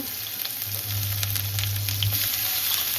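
Ajwain, a pinch of hing and ginger-chili-garlic paste sizzle in a few spoonfuls of hot oil for rajma, a steady close crackling hiss with a low hum beneath, no voices.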